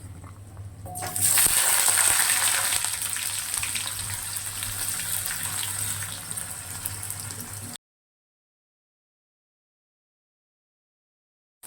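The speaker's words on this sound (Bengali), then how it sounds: "দেখো আমার পেঁয়াজটা লাল লাল করে ভাজা হয়ে গিয়েছে।" Two chopped medium onions with half a small tomato fry in a pan, giving a steady, fairly loud sizzling hiss for about seven seconds before it cuts to silence.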